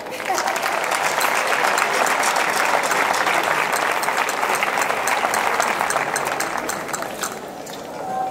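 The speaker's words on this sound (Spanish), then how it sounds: "Espero que lo disfruten y un fuerte aplauso." At a folk dance night, an audience bursts into strong, sustained applause for the dance group, a thick crackle of many hands that swells, holds and eases slightly near the end.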